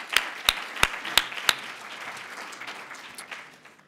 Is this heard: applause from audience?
yes